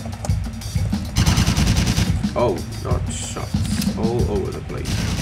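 Gunfire in the video game Driv3r, rapid loud bursts of automatic shots crackling almost continuously, with brief gaps and other game noises mixed in.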